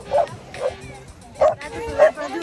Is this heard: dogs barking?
yes